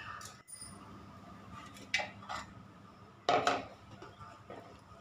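A spoon knocks and scrapes inside a bowl while a sabudana vada mixture of soaked sago, salt, asafoetida and crushed peanuts is mixed. The sounds come as a few sharp clinks over a low, quiet background.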